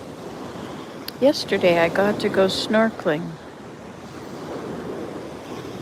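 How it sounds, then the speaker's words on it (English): Ocean waves wash steadily onto the shore in Maui at first light, a broad, constant surf hiss with some wind, partly under a voice speaking briefly. "I just love listening to these waves"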